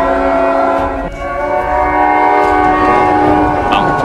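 Trains in the Roblox game Piggy, a loud sustained horn-like tone over rumbling rail noise, continuous and close, with faint clatter near the end.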